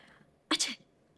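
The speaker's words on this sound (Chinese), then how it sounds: "而且打喷嚏。" A single short sneeze, close and sharp, heard while someone describes cold symptoms, with a brief catch of breath just after.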